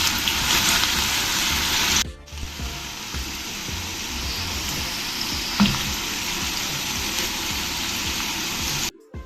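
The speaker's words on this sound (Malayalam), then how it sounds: "എണ്ണ ചൂടായി വന്നിട്ടുണ്ട് നമുക്കതിന് വെണ്ടയ്ക്കായിട്ട് ഫ്രൈ ചെയ്തെടുക്കാം" Okra (lady's finger) fries in hot oil in a pan, giving a continuous close crackling sizzle that briefly drops after a couple of seconds and then carries on steadily, with no talking.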